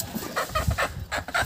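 Chickens cluck in a quick series of short, close calls with brief pauses between them, at a greenhouse in first snow.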